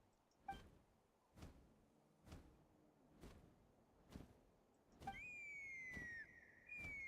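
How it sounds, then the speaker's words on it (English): A faint whistle call in the Genshin Impact video game: a thin tone that rises and then holds for about two seconds, after a run of soft, evenly spaced thuds. "That sounded like a whistle."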